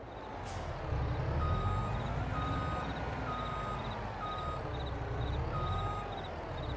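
A truck reverses to hook up a low loader trailer: a short hiss of air opens, then steady, evenly spaced reversing beeps ring out over the deep rumble of the idling engine, close and loud throughout.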